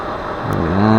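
Motors of a GOKU F722 Pro V2 thermal drone whine with shifting tonal harmonics as throttle drops, a short, loud, close buzz that bends in pitch.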